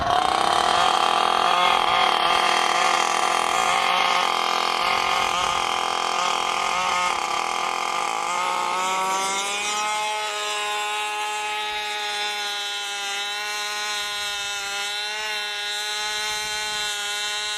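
A hybrid crop sprayer's engine starts and settles into a steady running drone, loud and close, its harmonic hum growing smoother and more even after the first several seconds of rougher cranking.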